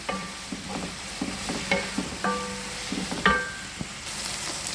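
Green chillies and onions sauté in a pan for spinach dal, a soft continuous sizzle punctuated by repeated scraping stirs and light clinks of the spatula against the pan, close and fairly quiet.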